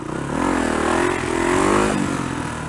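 A Kawasaki KLR 250 motorcycle engine revs steadily and fairly loud for a wheelie attempt, the pitch rising and falling slightly over a few seconds with no speech.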